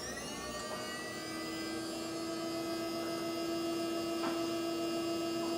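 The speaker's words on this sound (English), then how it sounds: "it's going to turn on the spindle at this point" A CNC machine spindle spins up and then runs at a steady speed, giving a close, continuous high-pitched whine over a low hum, with no talking.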